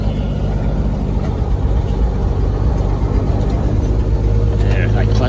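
A tractor engine runs while its draggy pump clutch is being disengaged, likely on a farm: a loud, close, steady rumble that holds unbroken throughout.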